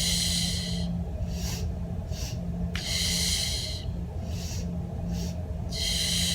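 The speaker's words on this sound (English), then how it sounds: "Now we have a fun little breath pattern to go with this. We're gonna sniff, sniff," Short nasal sniffing breaths taken in pairs, each followed by a long exhale, during a Pilates mat breathing pattern; close and clear, repeating rhythmically with no talking.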